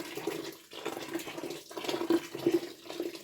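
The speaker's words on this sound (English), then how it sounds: "We put some warm water" Warm water mixed with vinegar pours and splashes while a fridge is being cleaned, a faint, close trickle with short gaps and small surges.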